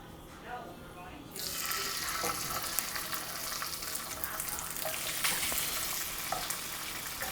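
Garlic, meat and tomatoes dropped into a hot pan for a homemade pasta sauce, a quiet start giving way to a loud, steady sizzle and crackle that continues to the end, with faint stirring and kitchen clatter.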